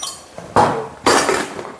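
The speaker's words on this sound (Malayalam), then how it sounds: "മഞ്ഞൾപ്പൊടി ഉപ്പും കൂടെ ഇങ്ങനെ മിക്സ് ചെയ്തിട്ട് വെക്കുക" A spoon stirring turmeric powder and salt into water in a bowl, giving two sharp clinks of metal against the bowl followed by brief scraping and swishing, close and without talk.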